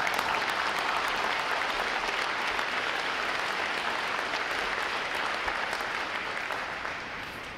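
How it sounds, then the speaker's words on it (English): An audience at an NROTC graduation ceremony applauds the families, a dense, sustained burst of clapping from a large crowd that holds steady and then tapers slightly toward the end. "I think we all owe a round of applause to the families."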